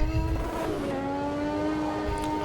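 A Formula 1 car in Automobilista 2 revs at the rev limiter, its engine a steady high-pitched drone with strong harmonics wavering slightly, loud and alone.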